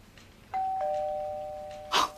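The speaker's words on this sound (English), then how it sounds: "it's just a coincidence that the doorbell rang" An electronic doorbell chimes in a house, two clear sustained tones ringing in sequence and hanging in the air, followed by a brief burst of noise near the end.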